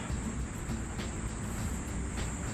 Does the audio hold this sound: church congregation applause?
no